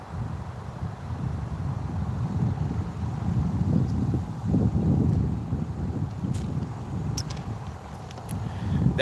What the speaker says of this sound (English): That noise you hear over there, that's it's a little cheap thing I bought off Amazon, but it's an air compressor